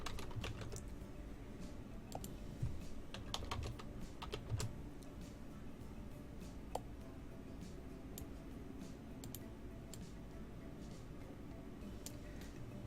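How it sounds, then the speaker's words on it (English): Someone types a title on a computer keyboard, producing faint, scattered keystroke clicks in irregular bursts over a steady low background hum. "So let's just type in nerd therapy."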